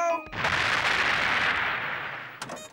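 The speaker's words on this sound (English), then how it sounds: "Attention, all tanks! Fire at will!" Cannon fire from cartoon tanks at a border, a loud sustained roaring blast that swells and slowly fades over a couple of seconds, followed by a brief sharper burst near the end.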